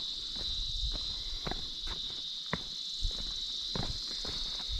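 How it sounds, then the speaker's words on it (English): Cicadas drone steadily around a hilltop temple complex at Kote Betta, a loud continuous high buzzing that fills the whole stretch, with faint footsteps and scattered knocks underneath. "Oh, there are a lot of cicadas all around. I can hear them."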